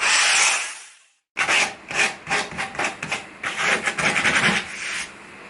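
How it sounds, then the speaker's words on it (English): Wood edges are sanded by hand before laminate is glued on, heard as a rough hiss, a brief pause, then a run of quick close rubbing strokes without speech. "You need to sand off any little bit of anything that might get underneath the laminate."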